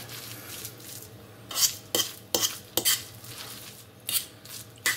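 A spoon stirs mayonnaise into a smoked mackerel spread in a bowl, giving soft wet mixing sounds broken by several sharp scrapes and clinks against the bowl, close by and without talk.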